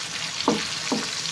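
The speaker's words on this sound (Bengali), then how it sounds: "রসুন, পেঁয়াজ, কাঁচামরিচ, লবণ একসাথে আমরা ভেজে নিচ্ছি" Garlic, onion, green chilli and salt sizzle together in a pan, a soft continuous frying hiss with two brief stirring scrapes and no voices.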